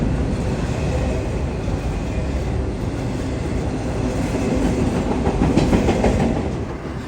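An intermodal freight train crosses the aging Saluda Trestle near Greenville, South Carolina, in thick fog: a steady, loud rolling rumble with faint clickety-clack that swells slightly toward the end, with no voices.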